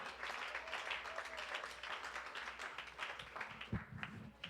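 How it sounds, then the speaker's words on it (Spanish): A Pentecostal church congregation applauds during a sermon, a dense patter of many hands heard quietly and at a distance, steady for several seconds before thinning slightly near the end. "Aplauda al Señor Jesucristo si siente en su corazón"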